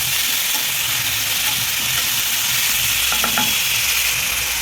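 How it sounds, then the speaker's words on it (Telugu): Onion, tomatoes and green chillies fry loudly in oil in a pan for chana masala. The sizzle is dense and continuous and sits close, with faint stirring scrapes and no voices. "ఈ ఆనియన్, టమాటాలు, పచ్చిమిర్చి వేసేసుకోవాలన్నమాట. వేసేసుకొని వేయించుకోవాలి బాగా."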